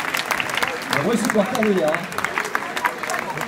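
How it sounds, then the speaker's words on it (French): Crowd applause for a runner finishing the 100 km de Millau ultramarathon, a steady outdoor clatter of clapping heard beneath a man's speech over the loudspeaker. "Alors on applaudit bien fort, il est exceptionnel."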